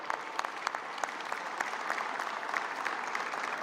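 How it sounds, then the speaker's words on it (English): An audience at a gun-violence program update with the governor and mayor breaks into sustained, moderately distant applause, a dense patter of many hands with a few sharper claps standing out. "can you give yourselves just a big round of applause?"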